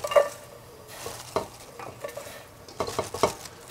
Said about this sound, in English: a little oil also. And so let's saute our cabbage